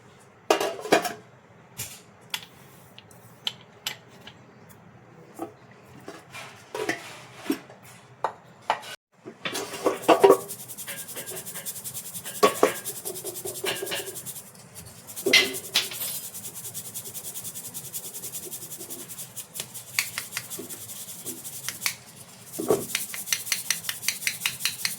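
Homemade asafoetida powder shaken through a metal flour sieve, a dense run of rapid metallic rattles and taps against a vessel, sparse and intermittent at first, then busy and continuous for most of the stretch.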